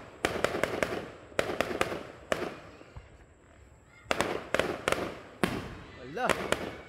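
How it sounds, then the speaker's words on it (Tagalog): Fireworks burst in quick clusters of sharp, loud cracks and pops, with a short lull midway before another rapid volley and a whistling rocket near the end, while voices talk excitedly underneath. "Fireworks."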